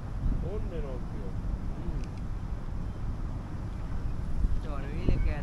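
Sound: wind blowing outdoors by water

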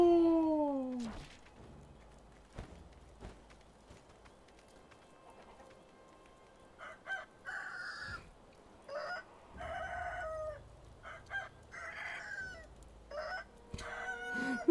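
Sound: chickens clucking in the video game Sekiro

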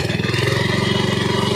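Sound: hand tractor engine revving

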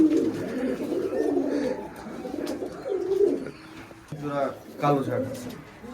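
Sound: giribaj pigeons kept indoors cooing

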